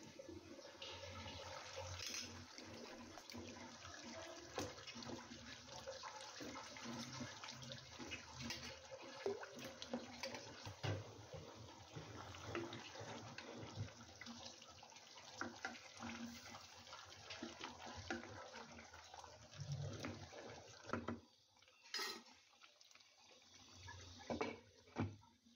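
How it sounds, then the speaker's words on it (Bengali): Potatoes being washed under a running kitchen tap, a steady broadband rush of flowing water that continues for most of the stretch, dropping briefly near the end before resuming, with no talk. "আর এদিকে আলুটাও ধুয়ে নিচ্ছি"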